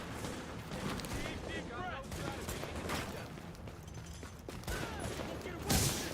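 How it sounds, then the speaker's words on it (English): A rioter firing at the player in Tom Clancy's The Division, bursts of gunfire crackling over a busy game soundscape with a louder blast near the end, while a person talks over it. "Love that he's shooting me."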